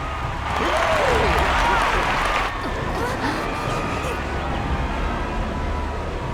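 Crowd cheering and applauding in the Final Fantasy XIV game, a dense sustained roar of clapping and voices that swells early and then settles into steady background noise.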